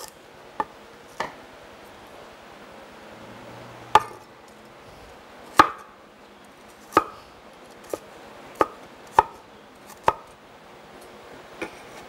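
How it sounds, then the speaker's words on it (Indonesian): Galangal pounded lightly on a board, about a dozen sharp, separate knocks at a slow, uneven pace over a quiet background, with no talking. "lengkuasnya tidak saya potong-potong. Cuman sedikit saya hancurin."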